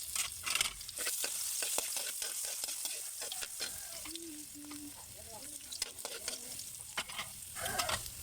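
Ginger, then garlic, sizzles and fries in a hot pan, a steady close crackle broken by repeated clicks and scrapes of stirring, with faint background sounds.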